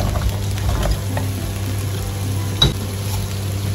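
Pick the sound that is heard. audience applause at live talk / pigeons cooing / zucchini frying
zucchini frying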